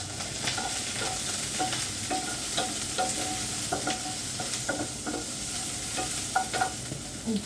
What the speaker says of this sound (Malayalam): ഇനി ഉള്ളി ഒന്ന് വഴണ്ട് കിട്ടാൻ വേണ്ടിയിട്ട് നമുക്ക് ഇച്ചിരി നടക്കും